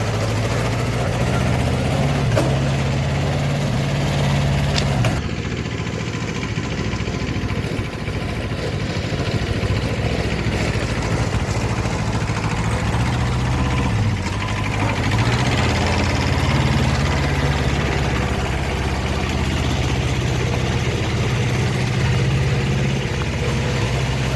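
A Japanese Kubota tractor with a potato planter hitched behind runs close by, its engine holding a loud, steady low rumble throughout, with small surges in pitch and no clear speech.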